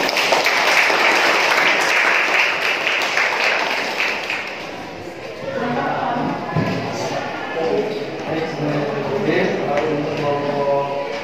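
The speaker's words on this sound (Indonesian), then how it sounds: "Tepuk tangan dulu semuanya." A school audience at a student entrepreneurship project presentation claps in a dense, sustained burst that fades midway, with voices talking over the later part.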